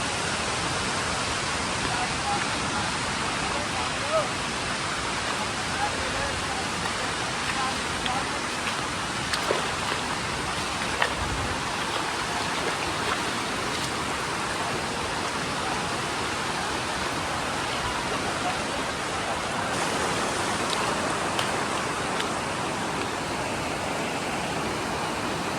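River water rushes in a steady, loud broadband roar that holds without a break for the whole stretch, with no other sound rising above it.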